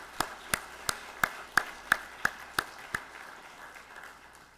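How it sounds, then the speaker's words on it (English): Sparse, evenly spaced claps at an ROTC commissioning ceremony for three cadets, about nine sharp single hits in a steady rhythm, fairly faint against a quiet room, trailing off near the end. "join me in a round of applause for these three cadets."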